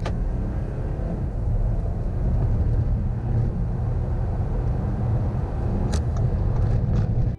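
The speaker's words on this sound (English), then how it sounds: "let's see if this slightly fresher powertrain can put in some good numbers" A 2019 Audi Q7 50TDI accelerates hard, its diesel engine droning low and steady beneath continuous road and tyre rumble heard from inside the cabin.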